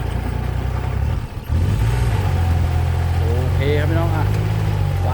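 A Kubota L3408 tractor working a muddy rice paddy with a rotary tiller, its engine holding a steady, loud, low idle throughout, with a brief dip early on and faint voices in the background.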